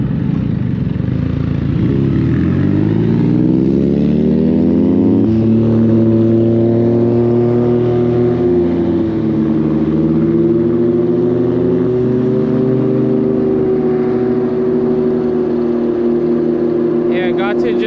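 A Varun M26-2 Pro electric bike runs at full throttle from a stop, its motor whine climbing steadily in pitch and then holding a high, even tone, loud and continuous, with wind and road noise underneath.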